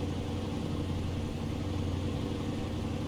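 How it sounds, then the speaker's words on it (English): Steady mid-pitched hum of a truck engine in Euro Truck Simulator 2, a constant drone running at even volume without pauses or voices. "Great sound on this truck, too."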